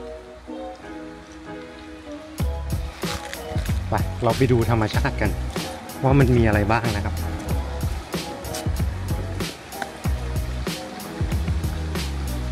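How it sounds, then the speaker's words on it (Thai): A forest stream runs near a house in Canada, a steady rush of flowing water heard close by beneath someone talking continuously. "ผมเลือกเดินมาทางที่เป็นป่าแถวบ้านนะครับที่มีเสียงลำธารแบบนี้ด้วยนะ"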